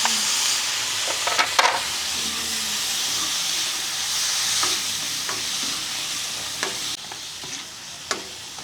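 Tomatoes sizzle and fry in a hot pan for ampalaya, a steady loud hiss with scattered stirring clicks and scrapes throughout.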